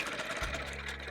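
Close, steady sewing machine stitching in the ditch along a seam of a bird panel quilt, a short continuous run with no voices.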